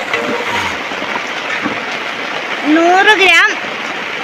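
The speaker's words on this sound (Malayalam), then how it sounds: "ഇവിടെ മഴയായതുകൊണ്ട് മഴയുടെ ഒരു സൗണ്ട് ഉണ്ട്" Steady rain falls outdoors as a dense, even hiss that fills the background while someone speaks over it.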